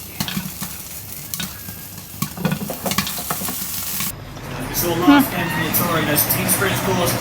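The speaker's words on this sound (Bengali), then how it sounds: "পপকর্ন ভাজা দেখতে আমার যে কি ভাল লাগে" Popcorn cooking in a pan at home, with sharp taps of stirring and popping that give way to a louder, steady sizzle, while people talk throughout.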